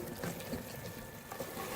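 Water poured from a glass into a pan of cooking minced meat and peas for matar keema, a faint, steady splashing trickle lasting under two seconds with no talk.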